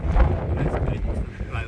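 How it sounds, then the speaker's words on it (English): Strong wind near a hilltop on a hike up from Ambleside, a loud steady rushing buffet of the microphone with a voice mixed in. "it's getting really windy."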